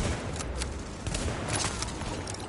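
Gunfire in a PS4 shooter game, with several sharp, loud shots cracking in quick succession over steady in-game background noise.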